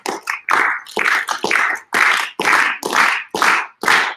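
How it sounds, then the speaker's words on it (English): A crowd claps together in tight unison, about nine sharp, loud synchronized claps at a steady, slightly quickening beat with brief silences between them, no voices over the claps. "now I want you to start clapping together at the same time."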